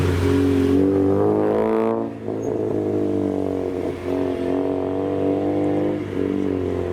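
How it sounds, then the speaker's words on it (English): A Subaru engine idles loudly with a steady, low rumbling drone, briefly rising in pitch as it revs and then settling back to a sustained growl close by, at a Japanese car show. "And a revving Subaru."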